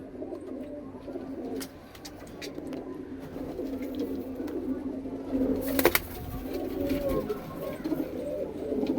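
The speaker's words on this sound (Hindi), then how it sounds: "अमृतसर के नामी गिरामी कबूतर है भाई" Pigeons coo in a low, steady murmur at close range, Punjabi racing birds from Amritsar kept on a rooftop loft, with faint rustling and a brief flutter of wings partway through.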